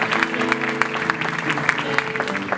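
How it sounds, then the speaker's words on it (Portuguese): A church congregation at a family kids' gathering applauds in praise, brisk, close clapping from many hands sounding steadily throughout, with a faint tonal hum beneath. "Vamos aplaudir ao Senhor"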